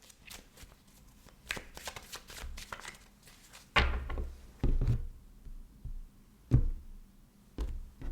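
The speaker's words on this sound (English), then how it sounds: "I'm going to shuffle the cards for you" A deck of tarot cards being shuffled up close, with repeated soft riffling bursts and crisp taps as the cards are squared and knocked together, quiet and without talking.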